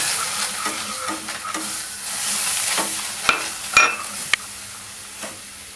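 A spoon stirs milk powder and milk into a dough for an eggless, ovenless cake, scraping and knocking against the pan in an uneven rhythm over a soft background hiss, with a few sharper clacks near the end.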